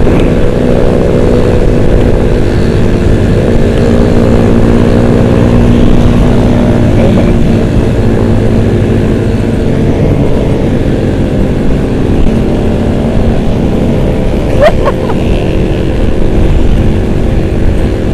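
Racing vehicles rev at full throttle in a loud, continuous close-up engine roar that holds steady throughout, with a brief sharper spike near the end.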